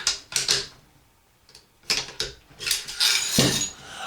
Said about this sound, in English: Slide your bolt rod up, and then lift up